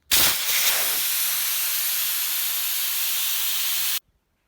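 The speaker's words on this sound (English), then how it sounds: "It's going to be loud, and all of the air is going to start coming out." Air rushing out of an inflatable paddle board valve after a quarter turn, a loud, steady hiss that starts abruptly, holds evenly for about four seconds and cuts off, close with no voices.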